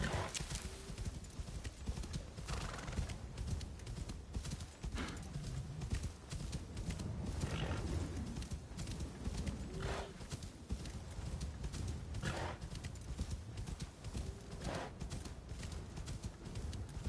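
Hooves clip-clop steadily as a horse trots in Assassin's Creed Shadows, with a few whinnies breaking through over a constant wash of game ambience.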